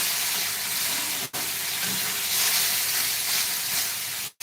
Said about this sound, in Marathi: त्यानंतर हा सर्व मसाला चांगला असा तेल सुटेपर्यंत भाजून घ्यायचा आहे आपल्याला